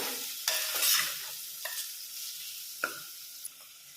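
Spiced vegetable poha khichdi stirred in a pan, a spoon scraping through it in four separate strokes at an uneven pace over a soft, steady sizzle.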